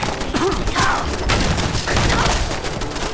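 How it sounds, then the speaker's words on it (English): A handmade double-barrel shotgun fires in a first-person shooter video game: a few heavy, booming blasts spaced apart, loud and close, with mechanical handling noises between the shots. "A DLC purchase gets you the Handmade double barrel shotgun"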